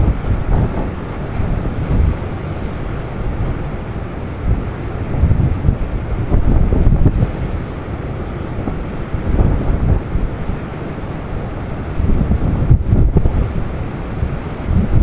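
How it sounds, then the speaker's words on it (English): Strong wind gusts over the beach at Ocean City, Washington, buffet a microphone on a tripod beside a truck, making a steady, loud low roar with surging gusts for the whole stretch. "you sure could still hear the wind blowing"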